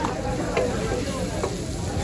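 Kaleji liver and tomatoes frying together on a busy Peshawar food street stall, a steady close sizzle with stirring scrapes.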